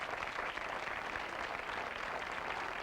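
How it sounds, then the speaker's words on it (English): Audience applause welcoming the panel on a late-night television talk show, a dense, even wash of clapping heard from a distance, fairly faint and steady throughout with no voices. "I would describe that as a cautious round of applause"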